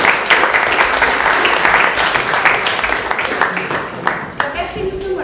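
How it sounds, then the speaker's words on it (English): An audience claps steadily after a talk at an event, a dense, loud wash of applause that thins out near the end, with some voices mixed in. "give them a round of applause"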